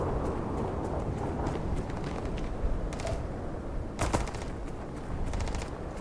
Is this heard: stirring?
no